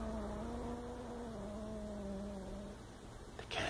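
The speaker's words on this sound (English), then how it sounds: "The cat growls." A frightened cat growling at a stuffed toy, a low sustained drawn-out growl, close and fairly quiet, ending with a brief rustle.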